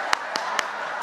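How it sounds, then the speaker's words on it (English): A church pastor clapping for himself on stage, three quick, separate hand claps spaced evenly over a steady room hum, with no crowd joining in. "I'll give my own self some applause"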